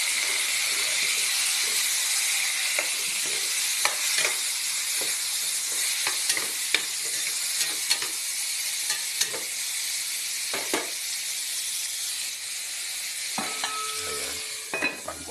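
Kangkong water spinach tossed into pork nilaga in a pot, a steady close sizzle and hiss of frying with scattered stirring clicks and scrapes throughout, no voices.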